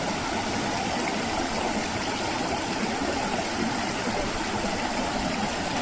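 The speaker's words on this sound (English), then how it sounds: "Here's where the weir's just broken through in the middle" River water rushes through a broken-down weir in a wooded valley, a loud, continuous, even roar of flowing water close by with no voices.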